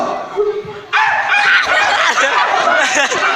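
A person mimics a dog's barking and yipping in loud, close bursts, breaking into snickering whimpers.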